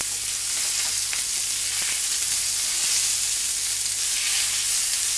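Sardines frying in oil in a pan for Kerala-style mathi masala, a steady, loud, close sizzle and crackle that continues unbroken without talk.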